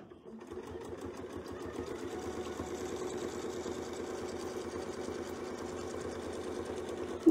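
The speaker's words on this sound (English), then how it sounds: "We're only gonna sew just the one side, and that's what's gonna bring us all the way around." A sewing machine steadily stitches one side of a quilt with a Westalee Spin E Fex ruler setup, a continuous close motor hum with fine rapid needle chatter running the whole time, with no talk over it.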